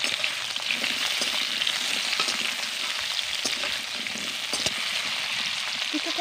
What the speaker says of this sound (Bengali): কিছুক্ষণ ধরে আমগুলোকে ভেজে নেব